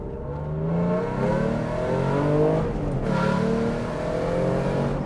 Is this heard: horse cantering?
no